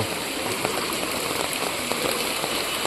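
Heavy rain pours steadily during a village flood in Vagaikulam, Tirunelveli district, a loud, dense and unbroken hiss of drops hitting surfaces with no pauses.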